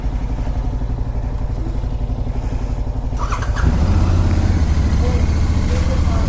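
A motorcycle engine idles after a cold start with a steady, rapid low thumping; partway through it deepens and grows louder, rumbling close by.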